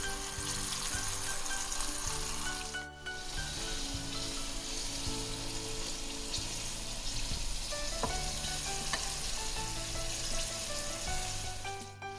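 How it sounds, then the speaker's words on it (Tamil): Crispy hot butter cuttlefish frying in a pan over medium heat, a continuous soft sizzle and crackle of oil that stays quiet and steady throughout. "ஒரு மீடியம் ஹீட்டில் வச்சு ஃப்ரை பண்ணணும்."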